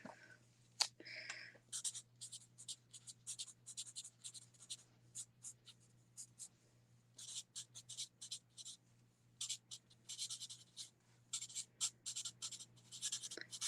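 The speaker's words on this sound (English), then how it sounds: "Let me write that down." Pen scratching across paper as a note is written by hand, quick bursts of faint close strokes with short pauses, over a low steady hum.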